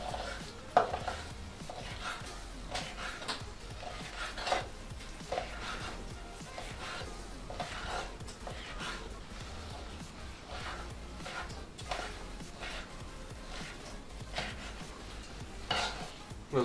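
Bacon on a grill for a bacon onion burger, with a faint steady sizzle under repeated scraping and stirring clatter of utensils, no talk.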